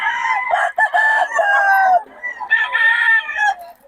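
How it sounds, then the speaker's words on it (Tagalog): Several chickens crowing and clucking close by, loud overlapping calls in two bursts with a short pause between. "Yan, mga manok niyan."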